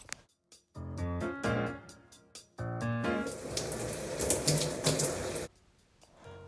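Water runs over a young girl's hair during a wash-day co-wash routine, arriving in stop-start bursts of splashing spray. A longer, denser stretch of flow follows, then it cuts off into near quiet.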